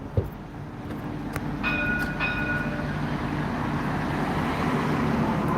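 A streetcar rolls past on its rails, a steady loud rumble with a couple of brief metallic squeals and clicks early on, heard outdoors with no talking.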